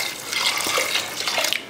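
Soaked chana dal being washed in water, with a steady splashing, running-water wash close by and no talk over it.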